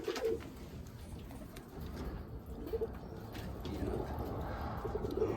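Pigeons coo softly in short, low bursts amid a noisy background, with a person speaking now and then.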